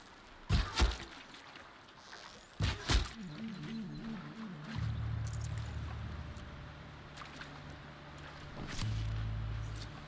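A waterfall rushes in the Horizon Zero Dawn video game as a broad, steady wash of water noise. A few dull thumps and swells sit over a low rumble.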